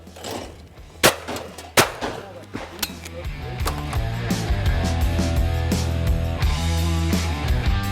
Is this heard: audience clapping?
no